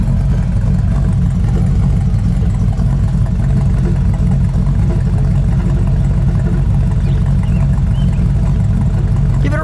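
A 1955 Buick Century's engine runs at a steady, full low drone for the whole stretch, with no sharp rise in pitch, heard up close and alone.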